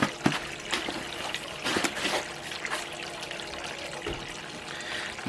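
Water runs and trickles steadily through a BrewZilla Gen 4 brewing system during cleaning, with occasional splashes and clinks, close by and fairly quiet.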